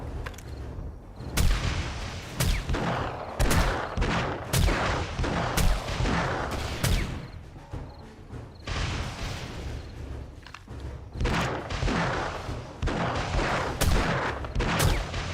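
Rapid gunfire in the zombie survival game 7 Days to Die, a steady stream of sharp shots with heavy booming impacts repeating throughout, loud and close, with no voices over it.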